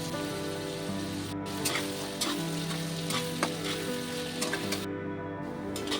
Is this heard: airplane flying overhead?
no